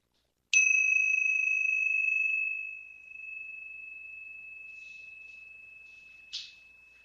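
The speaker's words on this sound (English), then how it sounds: "And when you listen to this bell, listen very closely for the waves of air that bring you the sound of this bell." Mindfulness meditation bell struck once, a clear pure ring that sustains and slowly fades, followed by a faint second tap near the end, with no talking.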